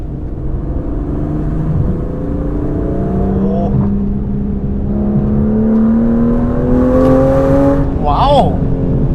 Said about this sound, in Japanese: ちょっとね前が空いたんで加速してみましょうか